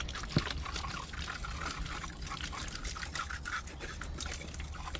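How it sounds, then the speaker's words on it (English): Water poured from a can into a seed tray propagator holding freshly sown Golden Fleece corn under soil, a steady close trickle and splash running throughout with no talking. "propagator lid, just putting a bit of water in there"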